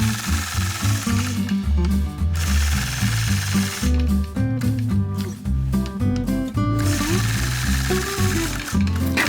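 A sewing machine quilts a curved path with fine thread, running in loud bursts of rapid stitching that stop and restart several times, with a voice heard at moments.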